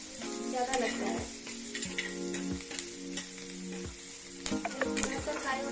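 Oil sizzles steadily in a pan while spices are fried and stirred, with scraping clinks of a spatula against the metal, before chicken is added for Chicken 65 and kebabs.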